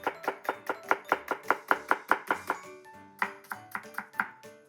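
A knife slices green onion (negi) thinly on a cutting board in a quick, even run of about a dozen crisp chops, then a short pause and several slower cuts, close and clear with no talking.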